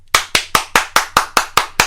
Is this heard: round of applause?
yes